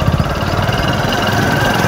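A small engine on a farmer's backpack sprayer pump runs at a steady drone, close and loud, with a continuous rattling hum and no talk.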